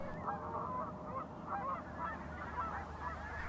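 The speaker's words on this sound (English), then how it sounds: "Gaggles of geese." Canada geese at a pond honk repeatedly in overlapping bursts, a gaggle calling at moderate distance over a low background rumble, with no talk.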